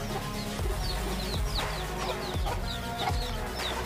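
Chickens cluck and cheep softly in a coop housing young chicks, a scatter of short repeated peeps and clucks at moderate distance over a low steady background hum.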